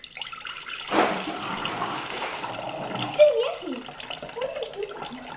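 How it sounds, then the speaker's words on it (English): Liquid poured off a pan of cooked BBQ pork for pulled pork, a splashing drain that starts with a gush and trickles on unevenly, moderately close with a few handling knocks. "We're going to drain all this liquid off before we start pulling."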